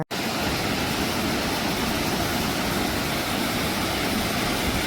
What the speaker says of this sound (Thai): สวยจริงค่ะทุกคน น้ำตกห้วยแม่ขมิ้นนะคะ กาญจนบุรีค่ะ